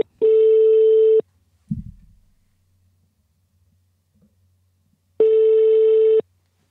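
Two long, steady telephone tones about a second each, separated by several seconds of near silence with a brief click, sound as a call is transferred to an operator.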